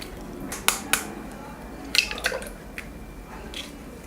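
Two whole eggs are cracked into a bowl in a kitchen, heard as a few sharp, close taps on the rim followed by soft wet plops, with quiet gaps between.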